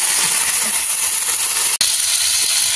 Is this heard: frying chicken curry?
yes